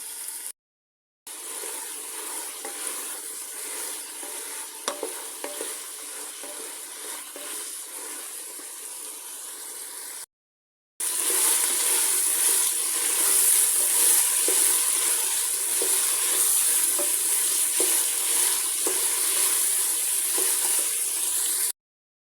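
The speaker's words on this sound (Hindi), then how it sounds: "पाँच मिनट के लिए चनों को मैं अच्छे से भून लूंगी।" Chickpeas sizzle and fry in a pan for several minutes while being stirred, a steady bright hiss broken by two short gaps, growing louder in the second half, with no voices.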